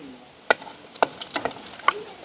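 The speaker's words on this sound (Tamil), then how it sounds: "இப்போ கொஞ்சமாக எண்ணெய் விட்டுருக்கோம் தாளிக்கிறதுக்காக எண்ணெய் வந்து கொதிச்சிட்டுது" Fennel, mustard and fenugreek seeds tempering in a little hot oil for a village-style drumstick curry: scattered sharp pops and crackles over a quiet sizzle, several distinct bursts spaced apart, close and fairly faint, with no talking.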